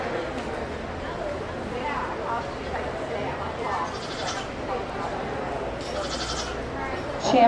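Dairy goats bleating in a county fair show ring, scattered calls heard over steady crowd murmur and an announcer talking throughout.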